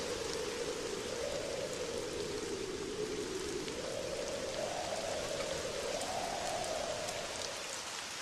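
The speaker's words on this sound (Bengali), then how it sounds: "না বাবু, বৃষ্টি কমার কোনো নামগন্ধ নেই। সেই সকাল থেকে বৃষ্টি হয়েই চলেছে।" Steady, heavy rain falls without a break on a village home during a long wet day, a dense even hiss that stays loud and close throughout with no voices.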